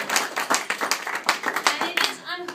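Audience clapping at a talk by the chief executive of a Harlem education nonprofit, a close, lively patter of individual hand claps in an uneven rhythm that continues for a couple of seconds and thins out toward the end.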